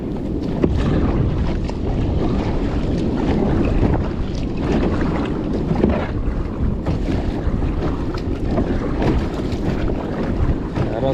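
Strong wind at sea roars and buffets the microphone continuously, with a broad rushing noise of rough waves beneath it.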